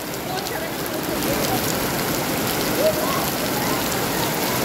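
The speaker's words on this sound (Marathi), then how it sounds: "एवढा जोरात पाऊस आला अचानक." Heavy rain pours down suddenly at a water park in a dense, steady hiss, loud and continuous throughout with no pauses.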